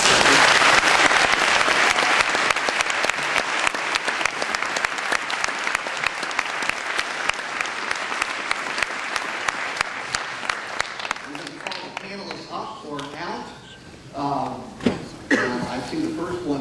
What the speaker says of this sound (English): I want to ask you to give a round of applause to Mason Mills, the filmmaker.